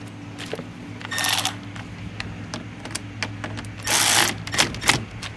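A starter motor bolt gets tightened on a 2001 Chevy Cavalier 2.2L, heard as a quick run of ratchet clicks with two louder bursts of rapid ratcheting over a low steady hum. No one speaks.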